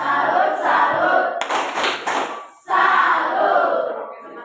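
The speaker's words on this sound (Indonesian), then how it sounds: "mari kita berikan tepuk salut untuk kelompok 1" A classroom group gives a rhythmic 'tepuk salut' clap for group 1: a quick burst of sharp, patterned claps set between stretches of the class chanting together.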